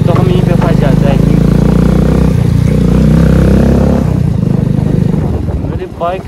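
Loud motorcycle engine running steadily on a mountain road in Ladakh, a continuous throbbing drone close to the mic that eases off near the end, with wind and faint voices mixed in.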